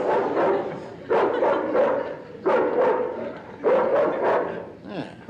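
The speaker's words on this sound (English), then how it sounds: "Sounds like a sweet old dog to me." A home alarm system gives out recorded dog barking, deep bow-wow barks in several bursts about a second apart, loud and close, with little else in between.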